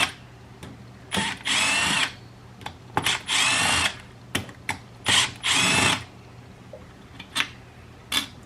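A power tool spins out cylinder bolts on a Stihl MS291 chainsaw, three loud whirring bursts of about a second each, separated by ratchety clicks and taps, close up.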